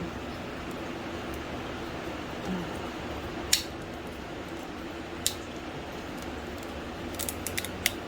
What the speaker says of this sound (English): I'm going to try wire cutters